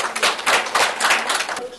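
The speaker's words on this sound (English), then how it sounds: "Give them a big round of applause" An audience applauds panelists at a plenary session, a dense, steady patter of many hands clapping for about two seconds, fairly close and loud.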